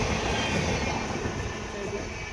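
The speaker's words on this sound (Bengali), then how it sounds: "স্টেশনে ঢুকতে না ঢুকতেই ট্রেন চলে যাচ্ছে" A train rushes through Karkuti station, a continuous loud rumbling roar of wheels and carriages close by, steady throughout with no gaps.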